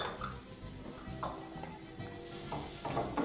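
Onions and garlic frying in oil for a bolognese sauce, giving a steady soft sizzle with faint stirring clicks, fairly quiet and close throughout.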